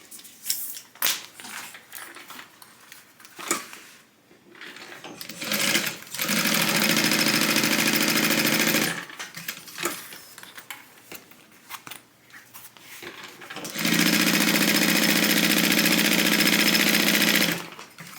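A sewing machine stitching a tote bag closed runs in two long, loud, steady bursts of rapid whirring, separated by quieter handling noises and clicks.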